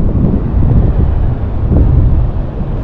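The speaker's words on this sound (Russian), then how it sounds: "А тут сильный ветер" Strong seafront wind buffets the microphone in loud, low, rumbling gusts that never let up, with no voices over it.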